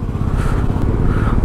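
A motorcycle rides along a mountain road between Shimla and Narkanda, its engine droning steadily and close, with rumbling road and wind noise throughout and no talking.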